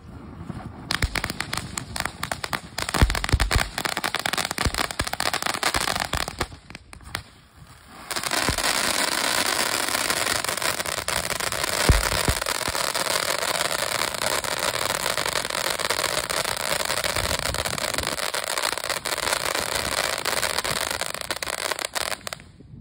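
A Boomin Starspang fountain firework with strobe burns outdoors in a loud, continuous crackling hiss that runs for about twenty seconds, with a brief dip partway through before the spray resumes at full strength.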